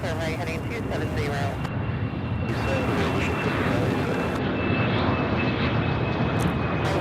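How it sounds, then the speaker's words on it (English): An American Airlines Airbus A321 bound for Pittsburgh is heard at Charlotte Douglas airport, with loud, continuous jet engine roar and a sustained whine throughout. Faint voices sound underneath near the start. "this A321 heading to Pittsburgh, Pennsylvania, American flight 1989"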